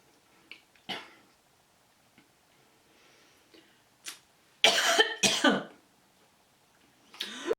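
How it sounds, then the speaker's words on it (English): A woman coughs several times, a few sharp isolated coughs early, then two loud close bursts in quick succession and another at the end, with quiet pauses between. "I'm having like a little coughing thing."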